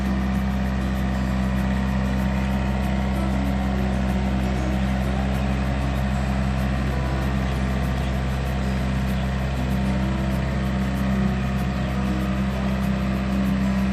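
A Yanmar US545 tractor engine runs steadily and loudly up close as the machine climbs a slope, a constant droning mid-pitched rumble with no break for the whole stretch.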